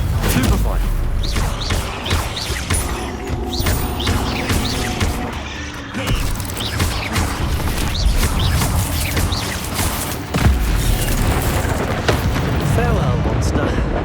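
Spell blasts and explosions from the Hogwarts Legacy video game fight against spiders, with repeated sharp bursts and booms over a dense, loud combat soundscape and game music, while a character voice shouts incantations between the impacts.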